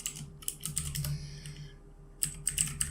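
Keys clatter on a computer keyboard as code is typed, in quick bursts of clicks with a short pause in the middle, close and fairly quiet over a low steady hum.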